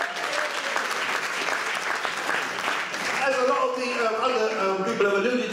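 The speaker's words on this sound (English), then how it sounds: "Come on, big round of applause for Macmillan." A big round of applause from a stand-up comedy audience, dense clapping from many hands that holds steady and then thins as a comedian's voice starts speaking over the fading claps.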